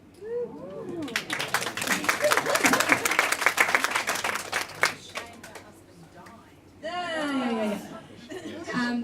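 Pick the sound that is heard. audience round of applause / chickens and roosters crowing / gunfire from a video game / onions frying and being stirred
audience round of applause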